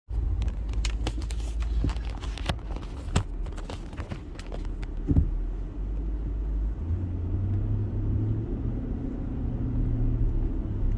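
A car drives and pulls into a residential community, its low engine rumble steady and close, with some clicks and bumps early on before a smoother hum takes over.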